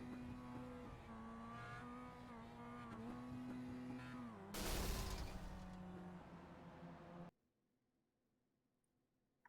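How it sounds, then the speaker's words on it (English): An overheated, blown-up Mazda Miata race car engine drones steadily with a harmonic tone, swells into a loud rough burst of revving, then cuts off abruptly to near silence. "See, he's still revving it."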